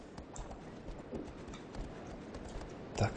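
Horse hooves galloping in the video game Shadow of the Colossus, a quick steady clip-clop rhythm at moderate distance, with a louder thump near the end.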